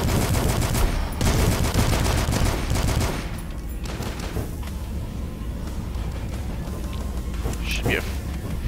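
Rapid gunfire from shooting enemies at the top of a staircase in the retro first-person shooter Dusk, dense bursts over the first three seconds, then thinner shots under a steady noisy game backdrop.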